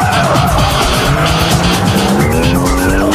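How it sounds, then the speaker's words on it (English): A race car drifts around Maze Circuit in Niigata Prefecture, its engine roaring loudly and continuously while tires squeal in long rising and falling screeches, close and dominant throughout. "no matter which track it is, or what car he's driving, he can drift beautifully"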